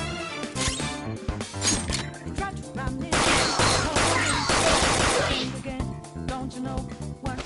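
Rapid bursts of gunfire from a gun in Persona 5 Royal, loud and dense, with repeated sharp shots and crashing impacts over game sounds.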